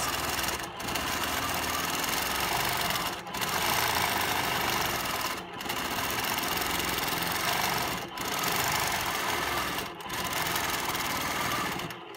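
Sewing machine stitching feathered swirls on a quilt, running steadily and continuously with a buzzing motor, broken by brief pauses roughly every two to three seconds.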